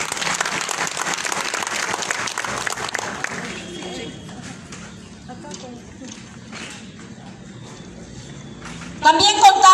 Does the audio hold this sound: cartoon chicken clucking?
no